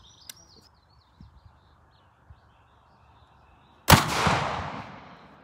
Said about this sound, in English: All right, shot number three.